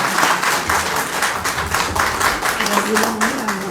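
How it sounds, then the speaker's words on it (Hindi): Audience clapping to welcome a guest at a felicitation event at a party headquarters in Jammu, a rolling, pulsing applause that continues while a person talks loudly over it. "प्रिया जी तालियों से स्वागत करें, जोरदार तालियों से"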